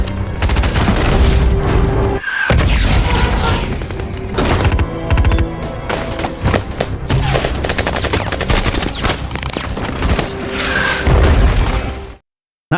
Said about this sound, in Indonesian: para militan menyerang dengan senjata mortir